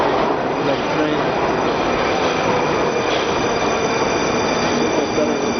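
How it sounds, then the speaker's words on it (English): A Moscow subway train arriving at a station rumbles loudly and steadily with high metallic wheel squeal, a dense continuous roar close by; a voice talks faintly beneath it. "And here comes another train."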